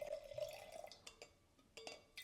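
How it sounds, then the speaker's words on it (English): Pinot Noir is poured into a Burgundy glass, a faint trickle with a rising tone that ends in a few soft drips and clinks, heard quietly and close. "I'll just quickly open this one up and then start pouring away."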